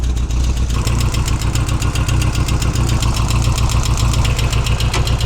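A Peugeot 206 engine running on gas idles just after starting, with a loud, close, steady rhythmic chugging and fast, even pulses throughout.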